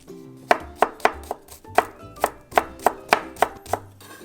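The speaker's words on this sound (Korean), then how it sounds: "마늘은 잘게 다져주시고요" A knife chops garlic on a cutting board, about a dozen sharp, distinct knocks in an uneven but quick rhythm, close and clear with no talking.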